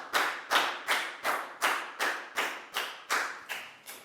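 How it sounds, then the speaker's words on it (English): Applause in a Year 4 science lesson classroom, heard as about ten evenly spaced, sharp claps in a steady rhythm, close and clear with no talk over them. "Big round of applause for Dan, guys."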